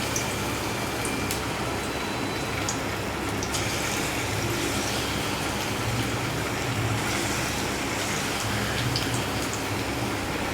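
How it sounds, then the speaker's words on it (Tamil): Small urad dal and coconut bondas sizzle in hot oil, a steady, dense crackle that holds at an even level throughout with no voices. "இப்போ எண்ணெய் காய வச்சு நம்ம போண்டாவை போட்டுக்கலாம்"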